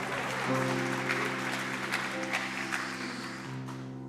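A church congregation applauds during a Sunday service, steady moderate clapping mixed with sustained organ or keyboard tones that hold underneath before tapering off near the end.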